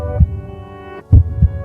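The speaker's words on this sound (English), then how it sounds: "You can hear the heart beating." Heartbeat: three low, soft thumps spaced unevenly over a steady sustained hum, close and muffled, with no voices.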